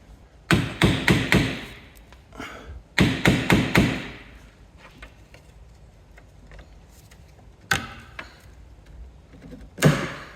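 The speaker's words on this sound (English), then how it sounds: "what I'm going to do is hammer a screwdriver in there" Sharp metallic hammer blows driving a screwdriver into a rusted car suspension joint, in two quick bursts of four or five strikes, followed by a few isolated knocks, close and loud with quiet gaps between.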